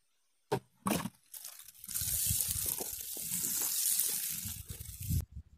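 Water splashes and pours steadily onto planting soil close by for a few seconds, preceded by a couple of short knocks and ending abruptly.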